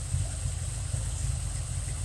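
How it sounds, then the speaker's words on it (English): A Ford Fox Body car engine idles steadily with a low, even rumble and a faint high whine on top, heard close and constant without any revving. "this thing's been idling for like 20 minutes at 140, 150."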